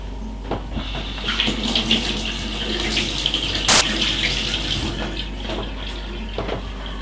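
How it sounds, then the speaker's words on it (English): Hot water pours in a steady splashing stream over cut salt beef in a kitchen for Jamaican pigtail stew peas, a close continuous hiss with small surges and one sharp clank midway. "Let's put a little bit more hot water on it like this."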